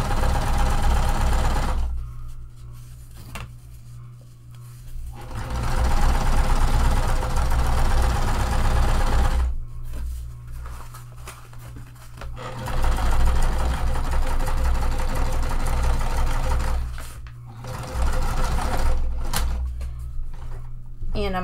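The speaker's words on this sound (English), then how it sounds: "I am going to sew this on about anywhere from an eighth to a quarter inch" Sewing machine stitching a tote bag seam about an eighth to a quarter inch from the edge, with backstitching, running in several bursts of steady mechanical whirring that stop and start, with a voice talking in the gaps.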